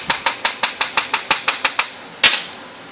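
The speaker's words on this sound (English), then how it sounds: "At this point, you can keep tapping, tap, tap, tapping, and you will eventually" A hammer taps out a gasket by hand, about a dozen quick, evenly spaced sharp knocks close up, then a short pause and one harder final strike that rings out briefly.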